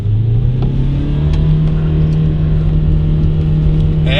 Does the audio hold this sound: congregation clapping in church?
no